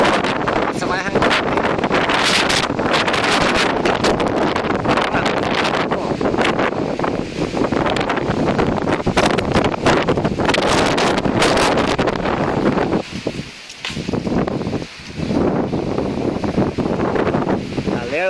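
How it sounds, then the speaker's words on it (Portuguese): Strong storm wind in São José roars and buffets the microphone in loud, continuous gusts, with brief lulls near the end, while voices talk over the blustery rush. "Galera do céu, que vento."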